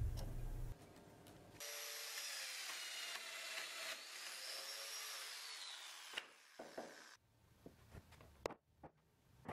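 A domino joiner whines steadily for several seconds as it cuts into oak timber, then stops and is followed by scattered knocks and clunks.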